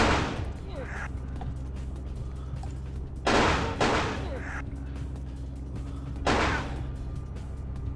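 Gunfire in the Vampire the Masquerade Bloodlines video game comes as three loud bursts spaced a few seconds apart over a steady low game rumble, with a player talking nearby.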